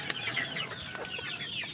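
Three-month-old domestic ducks on a vegetable farm follow someone on foot, giving a quick series of soft, faint calls that overlap one another throughout.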